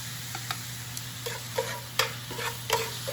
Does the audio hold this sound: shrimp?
yes